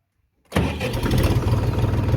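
A Scout TY 254 mini tractor's diesel engine cranks and catches after a moment of silence, then settles into a loud, steady, rumbling idle right up close.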